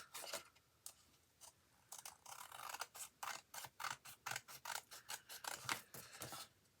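Scissors trim the excess paper from a handmade Stampin' Up! card, a steady run of crisp, close snips in a quick, regular rhythm with no talk.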